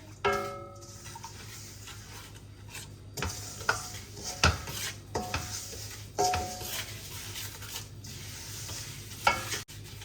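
Spices being stirred and mixed in a pot for lemon pickle, a spoon scraping and clinking against the metal in irregular strokes, close and fairly loud over a low steady background hum.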